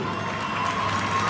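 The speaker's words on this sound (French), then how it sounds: "Et je vous demande de les applaudir" An audience at an event presenting a children's Pee-wee hockey team bound for a Quebec tournament breaks into steady applause with scattered cheering, a dense, continuous crowd wash that stays loud for the whole moment.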